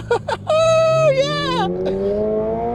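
A Toyota GR86 sports car accelerates, its engine note climbing steadily in pitch through a gear as the revs build, loud and close, with a brief shift near the end.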